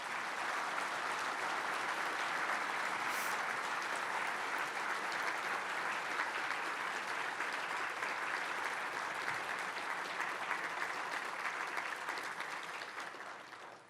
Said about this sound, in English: Let's give all 6 candidates a round of applause.